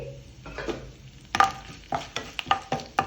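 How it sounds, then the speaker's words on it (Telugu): Mustard seeds, cumin and torn dry red chillies go into hot oil as the tempering for a green chilli chutney. Sharp, sparse pops and crackles come close and moderately loud over a soft sizzle, with an occasional utensil clink. "ఒక అర స్పూన్ ఆవాలు అలాగే ఒక అర స్పూన్ జీలకర్ర వేసుకోవాలి అలాగే ఒక రెండు ఎండుమిరపకాయలని ఈ విధంగా తుంచుకొని వేసుకోవాలి"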